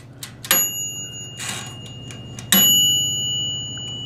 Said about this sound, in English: each timer has its own bell